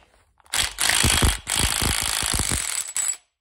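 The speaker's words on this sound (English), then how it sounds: "I'm going to go ahead and take this bolt off of here for a second. Let's grab my little battery impact." Small battery impact wrench removing a bolt from a 440 Mopar V8 engine during a timing chain install, rattling loudly and close in several hammering bursts over about two and a half seconds before stopping.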